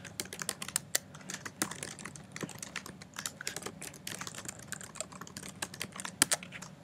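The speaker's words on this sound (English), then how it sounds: "Let's just type in something." Keys clatter on a computer keyboard in quick, uneven bursts of close, crisp taps with brief pauses between them, heard alone without talk at a fairly soft level.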